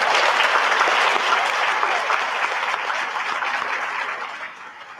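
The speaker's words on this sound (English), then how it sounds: "give this group a round of applause because they are very deserving" Applause at a senior awards day, honouring a group of students after they received their stoles; dense, loud, sustained clapping from a sizable audience that fades slightly toward the end.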